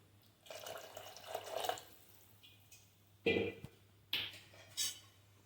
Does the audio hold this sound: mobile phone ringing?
no